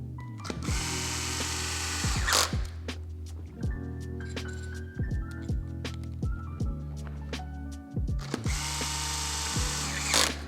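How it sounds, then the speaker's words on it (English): Power drill driving screws into an ARRMA BOOST RC car transmission, with repeated short whirring bursts and pauses between them, including a few longer loud runs at the start and end. "If you are using a power tool for this part of the process, be cautious not to over tighten any of the screws."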